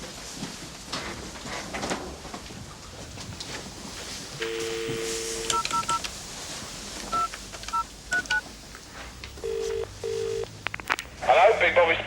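A telephone being dialed on a speakerphone: a series of clear keypad tones, some short and some held, with faint voices and movement in the background.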